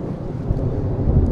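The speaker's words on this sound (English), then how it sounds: "You can certainly hear that rolling thunder." Low, deep rumble of rolling thunder on a beach, continuous and heavy with a breathy wind-like wash, no voices.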